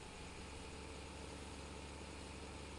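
A small tractor engine in Farming Simulator 15 hums at a steady idle, a constant even drone with no changes and no voices.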